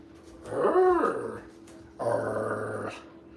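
A dog growls at home in two drawn-out, rolling growls close by, with a short pause between them.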